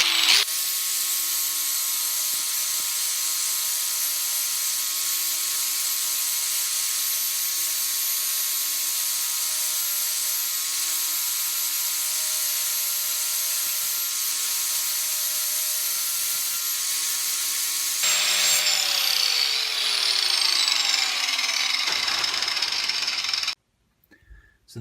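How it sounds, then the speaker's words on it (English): Angle grinder working a hatchet made from rebar, a steady high whine holding for nearly twenty seconds, then shifting to a rougher, louder grind before cutting off abruptly. "sure saves time if you got a grinder."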